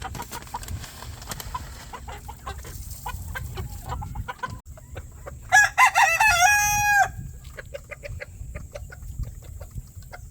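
Hens cluck softly around a chicken coop in the evening while a rooster lets out one loud, close crow midway, followed by more scattered clucks.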